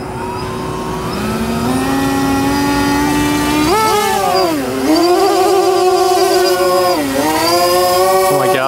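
Electric motors of a SweepWings Flinch RC tailsitter aircraft taking off in a backyard, a loud close whine that climbs in pitch, dips and surges repeatedly as the throttle changes.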